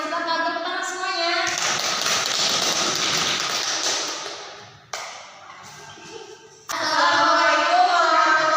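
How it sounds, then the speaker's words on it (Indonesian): Classroom of students clapping for the first group at a school lesson, a burst of hand claps between stretches of children's voices, fading out before chatter resumes. "untuk kelompok yang pertama, ibu persilakan tepuk tangan semuanya"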